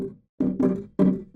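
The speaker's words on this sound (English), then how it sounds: "There's this kind of double bongo fill" A quick drum fill of three hollow, resonant hits in a short uneven rhythm, close and clear, like bongos.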